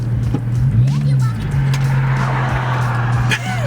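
A loud Infiniti G35 exhaust with the muffler deleted rumbles close by, swelling into a short rev early on before settling back to a raw, steady idle drone.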